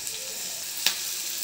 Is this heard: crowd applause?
no